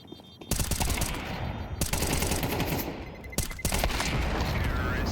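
Rapid automatic gunfire bursts in a Counter-Strike match between BetBoom and FaZe, loud and dense, broken by brief gaps and sharp individual shots over several seconds.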